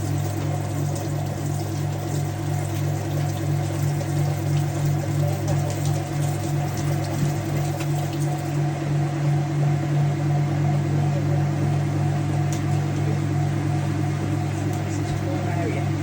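A Whirlpool Ultimate Care II washing machine on fast spin during a heavy cycle drones with a loud, steady hum and whir that holds constant throughout, with faint voices beneath.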